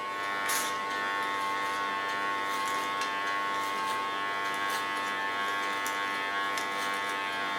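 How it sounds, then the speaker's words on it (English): A new electric hair clipper runs in a hair salon with a steady, even high buzz throughout, close and unbroken, with faint ticks and clicks over it. "And therefore I have also a new clipper."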